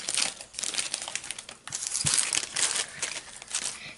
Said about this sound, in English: I want to open up the next pack.